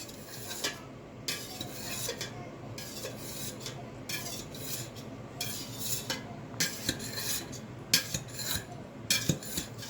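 A metal utensil cuts Reblochon cheese curd into a three-by-three grid in a pot, scraping to the bottom, giving repeated close scraping and clinking strokes in an irregular rhythm with no voices.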